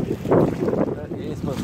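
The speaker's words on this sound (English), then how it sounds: "It's a little windy out here with you." Outdoor wind buffets the microphone in a steady low rumble, gusting loudly throughout with no clear speech.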